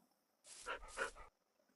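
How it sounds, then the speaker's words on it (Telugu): A tamed dog in Minecraft gives one short, quiet whimpering yelp, a brief two-part canine call heard alone against near silence. "మన డాగ్ అయితే డే 2 లో టేమ్ చేసాం"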